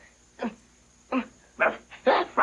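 A dog (a puppet-show pooch) gives four sharp barks, spaced unevenly and getting louder and more insistent toward the end, near and clear over a quiet background.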